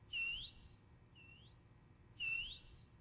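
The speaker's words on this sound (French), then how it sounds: "Arrête de siffler" Two loud rising whistles with a fainter one between them in the game Backrooms: Escape Together, clear and isolated over a quiet background.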